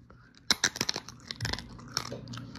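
Someone bites into crunchy pickles, giving several sharp, close crunches that fade into softer chewing.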